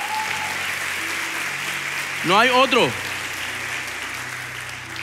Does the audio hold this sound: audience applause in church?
yes